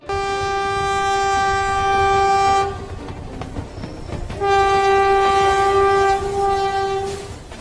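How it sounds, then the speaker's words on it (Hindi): Cartoon train pulling into a station, sounding two long, loud horn blasts with a short pause between them over rumbling wheels. "अरे यार ट्रेन तो आ ही गई"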